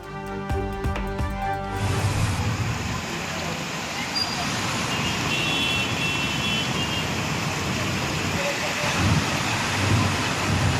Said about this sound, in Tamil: தெலங்கானா மாநிலம் ஹைதராபாத் மற்றும் ஆந்திர மாநிலம் விசாகப்பட்டினத்தில் கொட்டி தீர்க்கும் கனமழை.